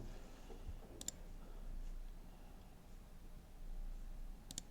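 Two quick, crisp computer keyboard key clicks while modeling in Blender, one early and one at the very end, sit over a faint, quiet room hum.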